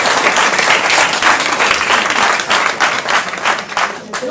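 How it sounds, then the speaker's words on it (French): Loud, dense applause from a large audience at a national union congress of civil-service secretaries and administrative attachés, sustained steadily across the whole stretch with no talk over it. "Ça s'applaudit."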